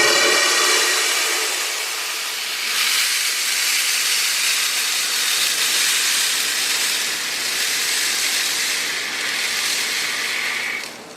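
A steady, dense rushing hiss of many small BB pellets being poured continuously, loud and close, lasting without a break.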